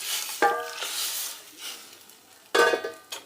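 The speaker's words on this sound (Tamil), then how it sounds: "நல்லா கலக்கி விட்டுட்டே இருக்கணும், இல்லைனா வந்து அடி பிடிச்சிடும்." A spoon scrapes and stirs gram flour curry in a pan over gentle sizzling, with two distinct strokes about two seconds apart.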